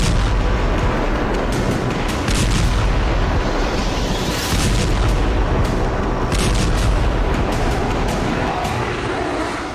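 Heavy explosions from Israeli bombing of Beirut's Dahiyeh district rumble continuously, a loud dense wall of booms and blasts with sharper bursts breaking through the roar.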